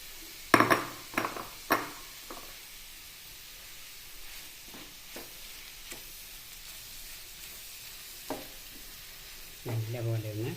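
Plantain and coconut thoran is stirred in a pan over low flame, a soft background sizzle broken by several sharp spoon clinks and scrapes against the pan, close and quiet, ending with a brief hum.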